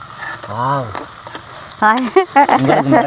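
Onions and curry leaves fry in a pan for a lentil curry, a low sizzle sitting beneath a person talking who dominates most of the short stretch.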